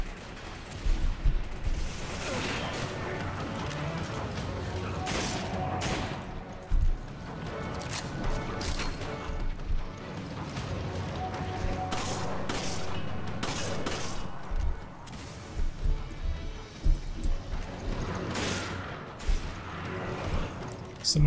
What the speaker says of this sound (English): Someone is throwing grenades. I hate those guys with the grenades.